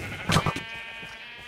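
Sheep bleating in the video game Sheep Quest 2: two or three short, close bleats in quick succession, then a steady electronic game hum with no talking.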